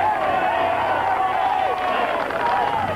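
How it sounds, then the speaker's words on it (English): A roadside crowd cheers at a Tour de France stage finish in 1987, a steady loud roar of voices and applause throughout, with a commentator talking over it. "At the finish, there's a great cheer for Christophe Leven, who wins his first ever stage of the Tour de France."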